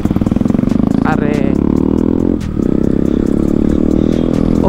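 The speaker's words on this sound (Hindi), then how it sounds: "ये ड्यूक में लगा है ना कस्टम एग्जॉस्ट।" A KTM Duke motorcycle fitted with a custom exhaust rumbles loudly and close, its engine note pulsing steadily with a brief dip mid-way as it revs, while a voice talks over it.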